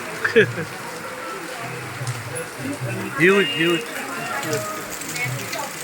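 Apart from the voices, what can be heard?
heavy rain pouring down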